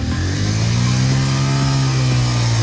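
Motorcycle engine on a Spiti Valley mountain trip, revving steadily in first gear right after a push start, a loud continuous droning hum with slight pitch swells and no talk.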